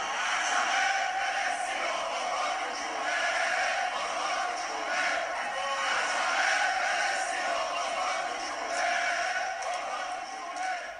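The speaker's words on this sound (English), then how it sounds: "that is the crowd in that soccer stadium in the capital of Iran" Huge soccer stadium crowd in Tehran, Iran, roaring and chanting steadily, a dense, continuous wall of many voices that swells and ebbs slightly throughout.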